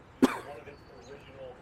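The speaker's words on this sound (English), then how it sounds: "You got me coughing out here." A man gives one sharp, close cough that fades into quiet room noise.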